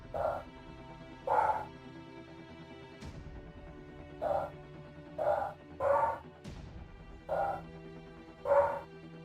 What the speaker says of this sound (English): Yeah, the dogs are barking.